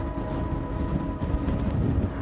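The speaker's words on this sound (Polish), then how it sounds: "jak już się wyciszy ten podmuch wiatru" Strong, gusty wind buffeting the microphone on an exposed mountain, a steady loud roar with slight surges and no voices.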